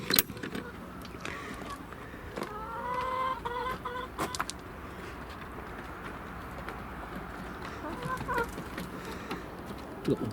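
Chickens cluck and call in short bursts around a coop on an allotment, with rustling and clinking in the background and no talking.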